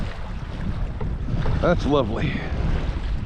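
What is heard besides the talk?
wind blowing on Cherokee Lake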